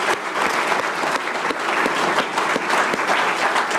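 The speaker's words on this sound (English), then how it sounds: "I think they owe a round of applause for themselves." An audience at a Georgia primary runoff election results event breaks into sustained applause, dense steady clapping filling the room from start to finish.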